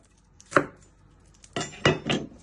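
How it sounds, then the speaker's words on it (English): A knife trimming the ends of two garlic cloves on a cutting board, one sharp chop followed after a pause by three quick close cuts, crisp and clear against a quiet room. "You'll need 2 garlic cloves. You just first want to trim your ends"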